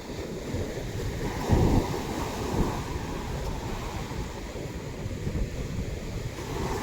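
Strong ocean waves wash steadily onto the shore with a heavy surge near the start, a continuous roaring surf mixed with wind buffeting the microphone, no voices.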